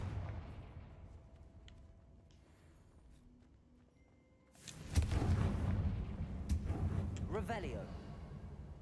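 Confringo blasting spell in a Harry Potter video game: after a quiet stretch, a sudden loud blast erupts midway and rolls on as a dense, rumbling burst with crackling debris.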